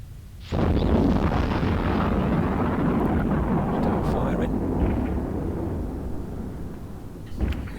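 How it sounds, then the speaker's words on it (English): Spaceship weapons in EVE Online fire on a target and hit its shields, a loud, sustained rumbling barrage of blasts that starts abruptly and continues steadily, with a few sharper impacts near the end. "Wait till it gets to about 5k. And we'll start firing again."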